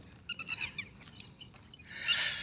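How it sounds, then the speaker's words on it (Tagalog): Several birds give high chirping calls in short bursts, then a brighter sustained twittering near the end, against a quiet background. "Ang ingay ng ibon."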